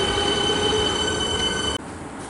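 A train pulling away makes a loud, steady rolling roar with a sustained high wheel squeal, then the sound drops suddenly and the train carries on more quietly. No one speaks.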